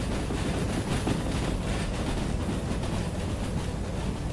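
A train rumbles along steadily in the Derail Valley driving game, a continuous low, dense roll of wheels and engine that holds at an even loudness with no voices.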